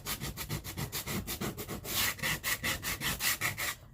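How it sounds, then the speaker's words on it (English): Sandpaper scrapes glitter off a wooden DIY farmhouse truck in rapid back-and-forth strokes, close and steady, about a dozen rubbing passes with no talking. "I will go ahead and scrape some of this glitter off."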